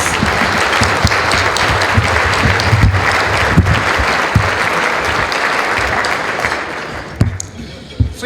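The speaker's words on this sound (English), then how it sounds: "Please join me in a round of applause for our distinguished guests." Hearty applause from the crowd at a Portsmouth, Virginia State of the City event honors distinguished guests, loud and sustained before thinning into a few scattered claps at the end.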